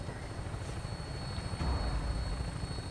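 A helicopter lifting off in Fallout 4 gives a steady, loud rotor-and-engine drone that holds for the whole stretch and swells slightly toward the end.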